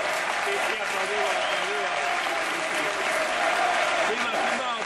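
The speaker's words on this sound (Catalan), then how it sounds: "Sí, aplaudiu." Crowd applause fills a football stadium during a Barça–Madrid match at Camp Nou, a dense continuous roar of clapping with a commentator talking over it.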